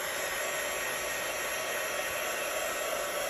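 Heat gun blowing steadily to dry card and remelt embossing powder for shine, a constant close roar with a hissing airflow and no talk.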